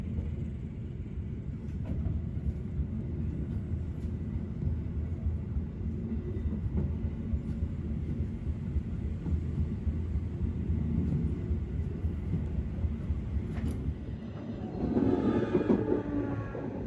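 An Argo Wilis passenger train at Kutoarjo gives off a steady, heavy low rumble that fills the whole stretch without pause, swelling slightly louder near the end, with no voices present.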